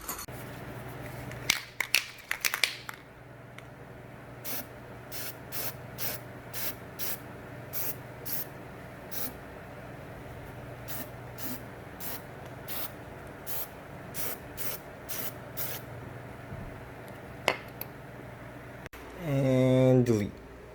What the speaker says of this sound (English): I just need to spray paint it